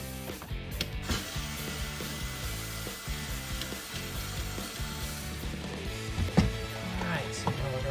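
A ratchet backing out T15 Torx screws from the engine bay panel of a 2020-up Corvette C8, close bursts of rapid clicking pawl strokes separated by short pauses and a few knocks.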